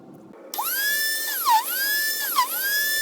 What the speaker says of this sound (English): And finally I'm drilling the stitching holes.